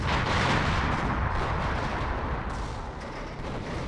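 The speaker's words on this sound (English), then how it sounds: "test subjects once again bringing in artillery to support us" Artillery bombardment in the World War II strategy game Company of Heroes, a dense continuous roar of overlapping booms and rumbling blasts, loud and unbroken throughout.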